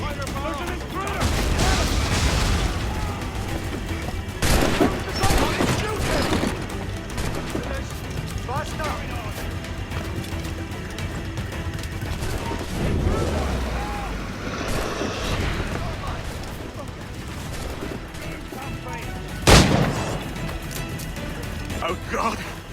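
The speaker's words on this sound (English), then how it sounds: "Careful with the gunfire, there's an intruder!" Battle sounds from Assassin's Creed IV: Black Flag, scattered gunfire and booming explosions amid clanking mechanisms and shouting voices, with a sharp loud blast near the end.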